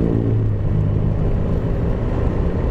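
A Raider 150 motorcycle engine, bored to 172cc, idles loudly and close up with a deep, steady throbbing rumble, and the idle sags about 1000 rpm; no voices.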